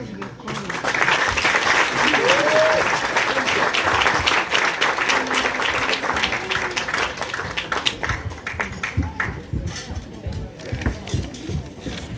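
Sustained audience applause fills a hall at an evening celebration of the Dalai Lama's 90th birthday, dense clapping holding steady for several seconds before thinning slightly toward the end, with a faint voice heard briefly over it.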